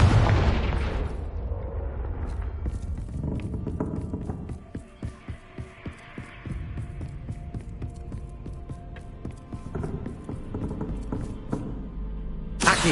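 Hogwarts Legacy Confringo spell blasts on PS5 land as booming, explosive bursts. A loud opening hit is followed by a run of sharp cracks and thumps in irregular rhythm over a steady low rumble.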